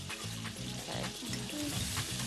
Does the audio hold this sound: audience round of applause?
no